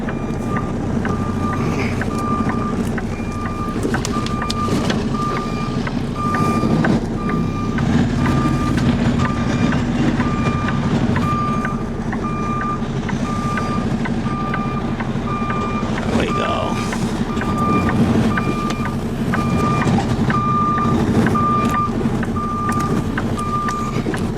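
A semi truck with a trailer reversing slowly, its backup alarm beeping in a steady, evenly spaced rhythm over a low diesel engine rumble, with occasional nearby talk.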